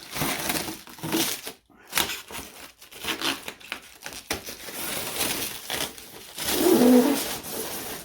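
Protective film is peeled off the polycarbonate body of an Arrma Senton RC car, giving a loud, continuous crackling and crinkling with short pauses and a stronger tearing burst near the end.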